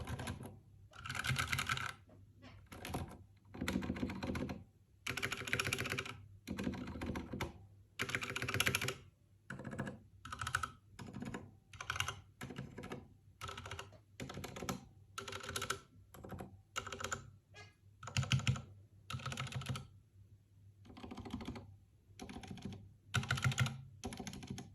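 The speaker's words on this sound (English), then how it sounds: "the sound test comparison between Zeal PC Rozelios silent linear switches and Cherry MX Red" Bursts of rapid typing on a Ducky One 2 SF keyboard fitted with Zeal PC silent linear switches, sitting on a bare desk, come as soft, muffled clusters of keystrokes with short pauses between them, close and quiet.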